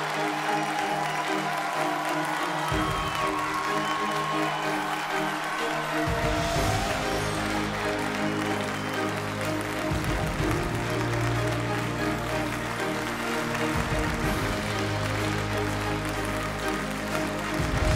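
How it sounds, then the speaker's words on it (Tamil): An audience claps at an award ceremony as someone is welcomed to the stage: a sustained wash of mid-level applause mixed with steady instrumental music. "உங்களுடைய பலத்த கைத்தட்டலோடு."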